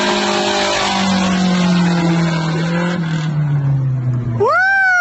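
A Mercedes doing a stationary burnout, a loud sustained engine drone with a slowly falling pitch that fills the clip, then a sharp rise in revs near the end.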